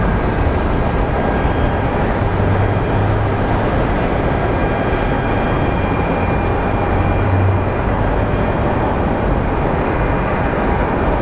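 Alaska Air airliner taxiing at Phoenix Sky Harbor Airport, a loud, continuous, steady engine drone with a low rumble and no talk.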